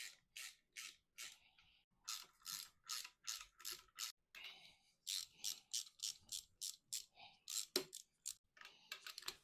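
A ratchet tightens bolts on a 50-year-old MGB rear axle, giving rapid bursts of close, crisp clicking in an uneven rhythm with brief pauses between strokes.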